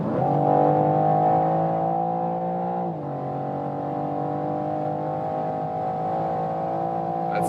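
A BMW M4 at full throttle from about 140 km/h, heard from inside the cabin as a steady, droning engine note that dips briefly partway through and then keeps pulling evenly.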